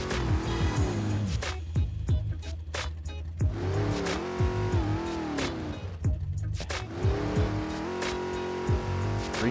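Racing game car engine from Midnight Club 3 on Xbox, loud and continuous with repeated revving rises and falls, gear shifts and occasional tire squeal, with no talk over it.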